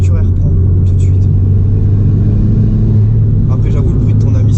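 A VW Polo WRC rally car drones steadily at speed, its engine and intake producing a loud, constant low rumble from inside the cabin. Voices talk over the engine noise.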